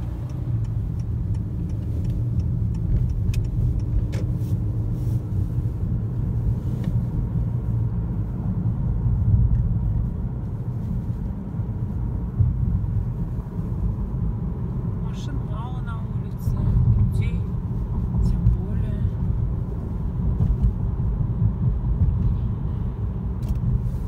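A car drives along, giving a steady low rumble from inside the cabin that lasts throughout, with faint ticking and scattered voices in the background.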